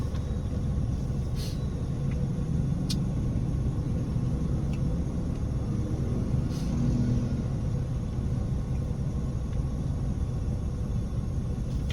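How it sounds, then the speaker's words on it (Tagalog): Heavy road traffic in Butuan heard as a continuous low rumble of cars and engines, steady and moderately loud, with a few faint higher passing sounds and no talking. "Traffic gyud kaayo ang butuan."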